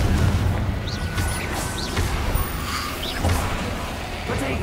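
Confringo fire-blast spell in Hogwarts Legacy during a duel: loud, dense crackling booms and bursts over a constant combat din, with whooshing spell effects and brief chirps scattered through.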